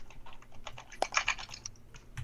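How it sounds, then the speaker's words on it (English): Typing on a computer keyboard during a Star Wars tabletop role-play session, a quiet, irregular patter of key taps with one brief cluster of louder clicks, no talking. "What am I typing in"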